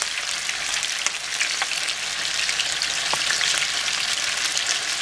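Onion and garlic sauté in a pan with a loud, steady sizzle and crackle, heard close and alone, with a few sharp pops and ticks scattered through it.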